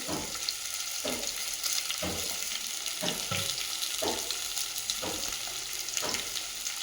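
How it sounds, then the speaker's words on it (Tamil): Onions sautéing in a pan for a village-style river carp fish curry, a steady close sizzle with periodic scraping stirs roughly once a second, heard alone without talk. "வெங்காயம் நல்லா வதங்கணும்"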